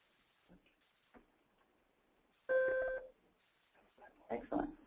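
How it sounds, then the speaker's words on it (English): Demonstration software on a computer emits an electronic disconnection beep, a short loud tonal burst standing out from faint background, followed by brief rustling noises. "Oh, it's disconnected. That's what that beep was."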